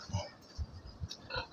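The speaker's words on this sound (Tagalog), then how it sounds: "Ayan ang ating baboy." A big, freshly cleaned pig being raised for roasting lets out four short, low grunting oinks in an even rhythm, close and fairly soft.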